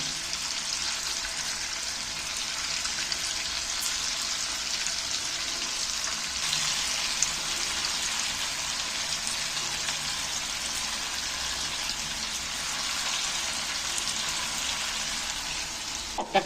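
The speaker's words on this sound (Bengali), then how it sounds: "সেগুলো আমি তেলের মধ্যে একটা একটা করে তুলে দিচ্ছি" Spiral-cut potato pieces fry in hot oil on a gas flame, giving a steady, close hiss of sizzling bubbles that runs without a break, with a few faint pops and no talk.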